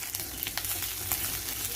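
Green chillies frying in oil for a radish and fish curry, giving a soft, steady sizzle with small crackling pops throughout, quiet and close.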